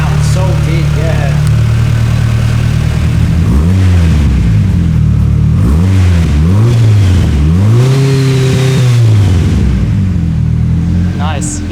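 A Nissan Silvia S13 drift car making over 500 horsepower idles, then revs repeatedly in deep, swooping blips that rise and fall before settling back to a steady idle; the engine is close and loud.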